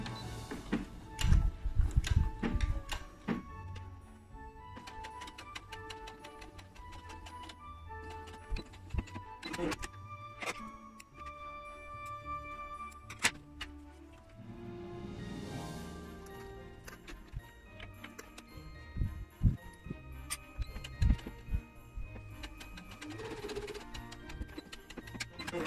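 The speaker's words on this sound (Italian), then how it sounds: "E dopodiché parto con la cucitura per fissare appunto tutto quanto." A sewing machine stitches fabric scraps for small homemade Christmas trees, a quiet uneven patter of needle ticks and mechanical clicks with brief pauses and bursts of motor whir.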